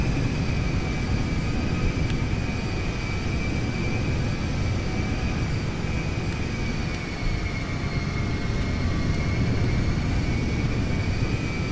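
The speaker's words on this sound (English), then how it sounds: "Air Force One should be taking off shortly" Steady, loud jet-engine whine and low rumble from Air Force One idling before takeoff in GTA 5, a continuous drone with a faint high tone running unbroken throughout.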